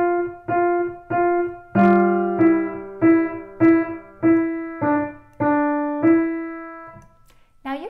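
A piano plays the opening of 'Jingle Bells' with both hands together, a series of clear, ringing chords and notes in an even rhythm, close and fairly loud, ending in a brief pause.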